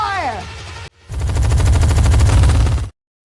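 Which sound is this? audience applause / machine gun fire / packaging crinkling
machine gun fire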